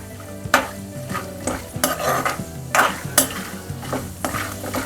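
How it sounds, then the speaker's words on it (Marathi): Dried coconut being dry-roasted in a pan for homemade chivda, with a spoon repeatedly scraping and stirring through it over a steady close sizzle, and no talking. "हे छान आपण खरपूस भाजून घेतोय खोबरं."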